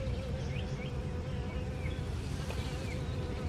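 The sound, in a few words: bee buzzing near a garden plant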